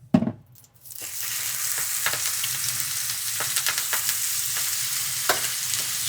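King oyster mushrooms hitting a hot oiled pan, a sharp initial clatter followed by a continuous bright sizzle and sear, with occasional small pops, close and steady.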